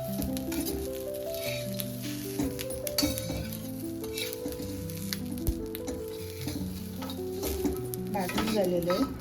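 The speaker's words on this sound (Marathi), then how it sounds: "मसाला भाजून घ्यायचा आहे आपल्याला. भाजून घ्यायची आहे." Masala roasting and sizzling in oil in a pan for stuffed eggplant with dried shrimp, stirred throughout with steady scraping and occasional clinks of a spoon, close and continuous under a bed of background music.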